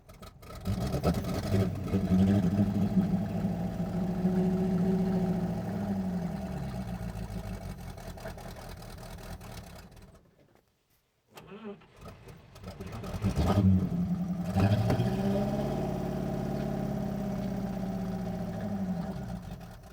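A 1950 Buick engine revives after 55 years idle, running steadily with a low throbbing hum, cutting out briefly midway, then catching and running again, close and loud.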